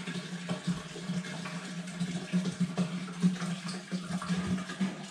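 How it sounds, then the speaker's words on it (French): Water runs into a one-litre bottle, giving a steady close splashing and gurgling fill that carries on throughout without speech. "je vais prendre une bouteille ici que je vais pouvoir remplir"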